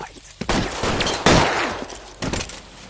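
Gunfire in the video game L.A. Noire during a shootout after a 211 robbery call: loud overlapping shots in several bursts over about three seconds, close and sharp with echoing tails.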